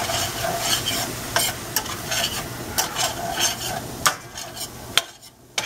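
Shepherd's pie filling with a splash of Pinot Noir sizzles steadily in a pan while a utensil stirs it, with several sharp scraping clinks against the pan over the continuous frying hiss.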